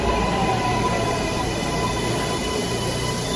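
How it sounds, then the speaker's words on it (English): A New York City L subway train arrives on a winter night during a blizzard, with a loud, steady rumble of wheels and car noise, a faint high whine, and no clear breaks. "Good news, the L train came, as you saw."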